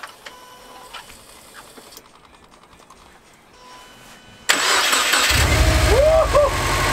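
Subaru WRX engine starting after sitting four months: a quiet fuel pump whir and ticking, then the starter catches and the engine fires into a loud, steady idle close by.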